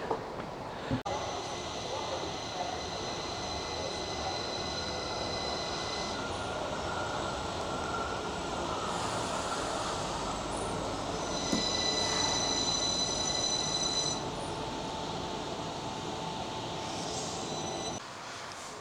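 An electric train rumbles past steadily and fairly loud on a line near Skipton, wheels squealing with faint tonal whines over the continuous roar.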